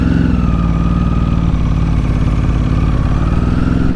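A 2006 Ducati 749 motorcycle engine pulls away with a loud, close, throbbing rumble, its pitch holding steady and then rising slightly as the bike moves off.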